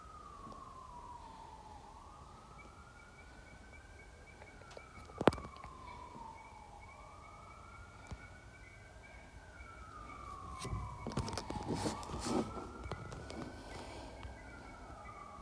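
Outdoor emergency sirens wail at night on Upland Avenue, slow rising and falling sweeps repeating several times at a moderate distance, with a sharp bang midway and rustling, clattering noise building toward the end.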